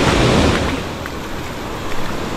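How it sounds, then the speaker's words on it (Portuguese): Strong ocean waves crash and wash up on Pitangueiras beach in Guarujá, a loud, close roar of surf mixed with wind noise on the microphone, surging at the start and then settling into a steady rush. "Olha só como a água tá vindo com força."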